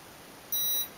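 A single short, bright electronic beep from the brushless electronic speed controller of an MJX F645 RC helicopter, sounding alone over a faint steady hum.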